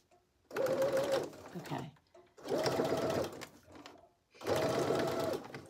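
A home sewing machine stitches funky fabric in three steady bursts of fast whirring, each about a second long with short pauses between, close and loud, while a voice speaks briefly.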